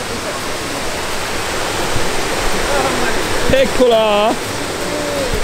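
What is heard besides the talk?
water of the Trevi Fountain in Rome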